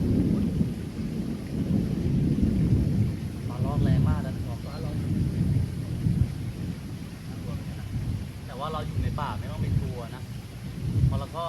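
Deep forest thunder rolls low and continuous before rain, with loud rumbling swells throughout and occasional bird calls above, while a voice talks intermittently.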